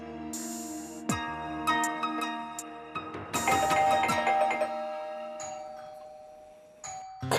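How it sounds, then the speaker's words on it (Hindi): A doorbell rings with several bright chime tones in quick succession, then rings again, each ring fading into a lingering resonant tail. "घंटी बजा के देखना"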